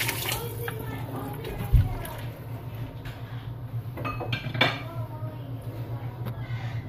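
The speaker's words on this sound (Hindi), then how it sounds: "और इसमें मैं डालूंगी पानी, 1 गिलास मैं इसमें पानी ऐड कर दूंगी" Water from a glass is poured into a pot of chana dal with bottle gourd, giving a soft splashing pour with light clinks of metal cookware while someone talks over it.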